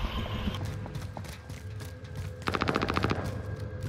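Enemy gunfire in Call of Duty Warzone, faint scattered shots early, then a rapid burst of automatic fire that stands out over quiet game ambience.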